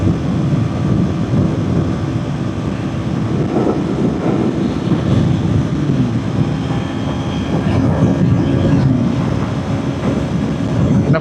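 Strong wind roaring past a rider at top speed, a steady dense rushing noise that stays loud and constant throughout with no pauses.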